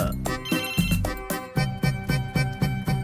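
A mobile phone ringtone sounds during a scene in a Hindi-dubbed action film, a loud, bright melodic ring repeating in quick, regular phrases with no talking over it.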